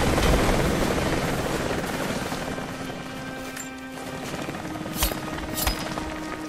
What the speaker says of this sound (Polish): I helikopterek leci.